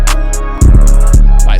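Hip-hop beat with dense hi-hats and a deep 808 that rolls into quick repeated hits near the middle of the clip, plus another low hit just after, all loud with no voice.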